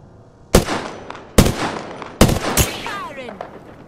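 Video game gunfire, four sharp loud shots spaced under a second apart, each ringing out with a short decaying echo tail.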